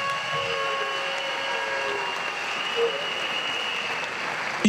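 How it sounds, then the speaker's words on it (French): A crowd at a political rally applauds the customary chiefs seated there, a steady wash of clapping and cheering heard at a distance with a faint tonal hum running underneath. "Je voudrais qu'on applaudisse tous les chefs coutumiers qui sont assis là."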